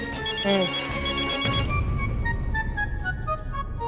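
A phone rings with repeated electronic tones, first a higher warbling pattern then a steadier series of beeps, over a low background rumble.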